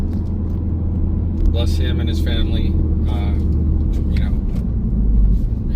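A 2017 Ford Focus RS engine hums steadily and loudly through a corner, a constant low rumble under someone talking throughout.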